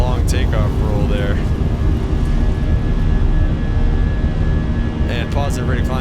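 Airliner engines roar steadily during a long takeoff roll in a flight simulator, a loud, constant broadband rumble with a thin whine, while voices speak briefly at the start and end.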